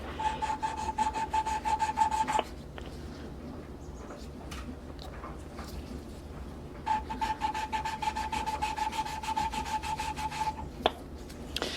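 A part is spun around by hand with a suction tool, making a steady rubbing, rasping whine in two long stretches with a quieter gap between them.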